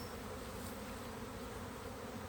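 A honeybee swarm being gathered, with the queen collected into a box, drones on in a steady, dense buzz close by, many bees humming together without pause.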